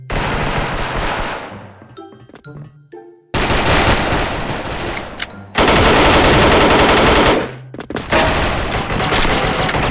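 An AUG A3 Gen 2 assault rifle fires in the online shooter Special Force, loud rapid automatic bursts at close range, broken by short pauses between volleys.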